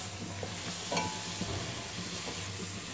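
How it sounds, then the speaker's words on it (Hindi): Vegetables for Chinese rice stir-fried on a high flame, a soft steady sizzle with a few faint spatula scrapes and taps against the pan, fairly quiet and with no talk. "फ्राई कर देंगे स्टर फ्राई। फ्लेम हमारी हाई है"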